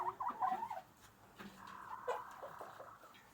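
A refeathering hen gives a few soft, quick clucks, quiet and somewhat distant, followed by a fainter drawn-out call against a low background.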